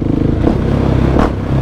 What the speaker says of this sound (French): Je laisse juste apprécier ce doux bruit en wheeling.